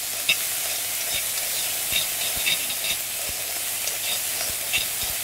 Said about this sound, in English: So in here is the pepper, the garlic, and the ginger. Just fry that off for a bit.